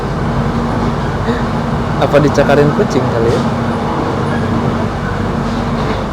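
Interior of an airport train while riding, a steady low rumble with a constant hum throughout and a few brief rattles near the middle, heard under a person talking.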